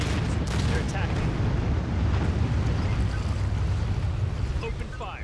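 A nuclear missile launches in the futuristic strategy game Anno 2205 with a heavy, sustained roaring rumble that stays loud and steady for several seconds before easing slightly at the end.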